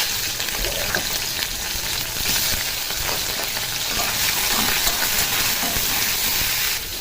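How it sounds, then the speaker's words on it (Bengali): Prawns fry in hot mustard oil in a wok with a loud, constant, close sizzle and hiss that runs evenly throughout, with no voices. "তেলটা গরম হয়ে গেছে, চিংড়ি মাছগুলো ভেজে নেব।"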